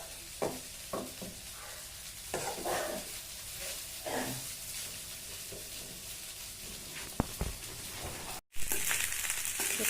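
Javanese fried rice sizzles steadily in a pan while being stirred, a continuous close frying hiss with scraping stir strokes and occasional knocks throughout.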